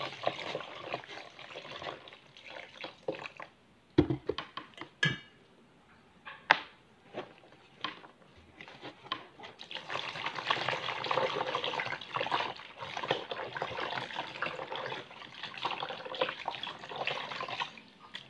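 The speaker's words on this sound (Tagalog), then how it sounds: "hugasan natin ng tubig" Water splashes and trickles close by as cassava is washed, with scattered clattering knocks, the washing growing steadier and louder in the second half.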